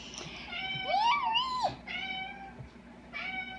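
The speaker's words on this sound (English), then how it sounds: "He's a very talkative cat." A cat meows several times, drawn-out and expressive, with a long rising-falling call in the middle and shorter meows after, close and fairly loud.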